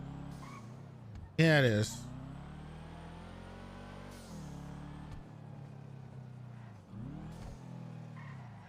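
A supercharged car engine in GTA revs and whines through rising and falling gear sweeps, with one sharp loud burst early on and steadier droning after, while a voice speaks briefly over it.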